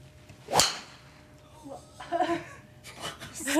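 A professional women's golf tour driver shot: a single sharp, loud crack of the club striking the ball, followed by a few seconds of people talking and reacting nearby.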